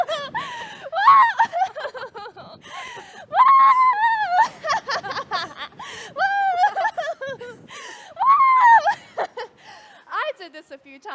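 Screaming from running down rolling sand dunes along a shoreline, heard as several close, loud wavering shrieks in bursts, mixed with gasps and breathy laughter.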